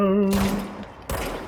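Gunfire in the video game Control, two dense bursts of loud shots crackling close by, preceded by a short tonal hum.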